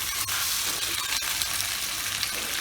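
Finely chopped tomatoes, two medium ones, frying in a kadhai over the flame, a steady close sizzle and hiss with faint scrapes of stirring throughout.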